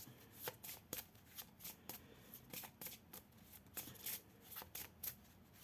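Oracle cards shuffled by hand before one is drawn, a steady run of quick papery riffles and slaps repeating about twice a second, close and fairly soft, with no voices.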